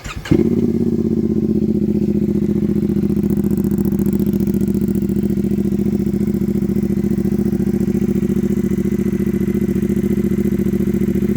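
A CFMOTO 450SS motorcycle engine fires up after a brief starter crank and settles into a loud, steady, throaty idle that runs alone and unbroken at close range.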